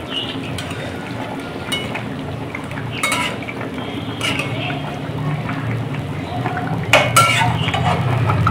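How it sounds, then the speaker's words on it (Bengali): A lid comes off a pot of thick moong dal with fish head, and a spoon stirs it with scattered clinks and scrapes of metal on metal over a low simmering hum. "আমি চাপাটা তুলে নিলাম, একটু নেড়ে দিচ্ছি।"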